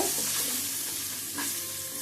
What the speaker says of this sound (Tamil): இதுக்கு தேவையான கொஞ்சம் கல்லுப்பு போட்டு இது எண்ணெயிலே ரெண்டு வதக்கு வதக்கலாங்க